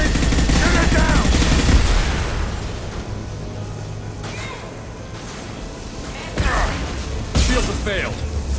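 Gunfire and explosive impacts in the Mass Effect 2 video game, a loud dense burst of shooting at the start, then rapid repeated shots and crashes with voices talking over them.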